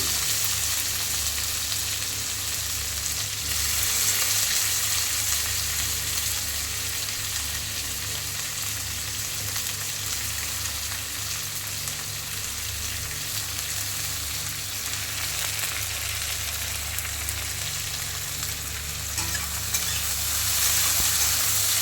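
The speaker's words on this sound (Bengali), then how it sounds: "তেল গরম হয়ে গেছে, দিয়ে দেব কেটে রাখা পেঁয়াজ," Chopped onion and garlic frying in hot oil for a kochu and fish dish, a loud, continuous close-up sizzle with a faint stirring texture and no talk throughout.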